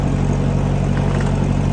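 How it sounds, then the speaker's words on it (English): A 1956 Massey Ferguson MH50 tractor running with the clutch pushed in and the gears still grinding, a loud steady low engine drone with a rough grinding texture throughout. "Push the clutch in, it's still grinding."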